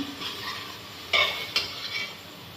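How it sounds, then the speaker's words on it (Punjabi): Chole masala spices roast in oil in a pan for a Punjabi chickpea curry, a soft steady frying hiss broken by two sharp scrapes of a spoon stirring against the pan. "ਜਿੰਨਾ ਚਿਰ ਇਹ ਤੇਲ ਨਹੀਂ ਛੱਡਦਾ ਮਸਾਲੇ ਨੂੰ ਉਨੇ ਚਿਰ ਆਪਾਂ ਭੁੰਨੀ ਜਾਣਾਗਾ"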